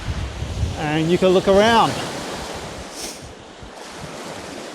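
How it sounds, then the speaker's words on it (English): Lake water laps against a shingle shore near Queenstown, a steady soft wash of surf under wind noise, with someone talking briefly near the start. "you can hear some of that surf, not really surf, of the lake lapping up here against the shingle"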